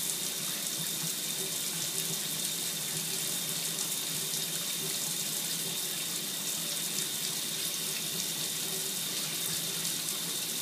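Shower water runs steadily as a dense, even hiss that holds unchanged throughout, close and fairly loud with no voices.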